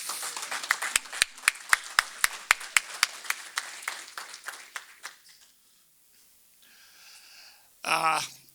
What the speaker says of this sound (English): Let's give a big round of applause to welcome the group here, Mr. Dean Romano